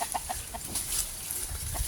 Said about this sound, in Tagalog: Yung mga manok kasama namin lagi eh.